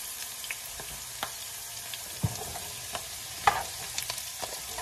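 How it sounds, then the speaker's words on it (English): Onion sautéing in a pan with bay leaves for a Panamanian Johnny Marzetti pasta: a soft, steady sizzle broken by scattered clicks and scrapes of stirring, with no talk. "So we're going to saute this up now."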